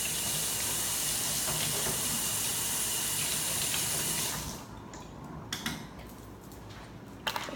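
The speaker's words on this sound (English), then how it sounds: "Oh, I have to wash off the spoon." Kitchen tap running hard with a loud, steady hiss of water splashing into a sink as a spoon is rinsed, then shutting off to quieter drips and a few small clinks nearby.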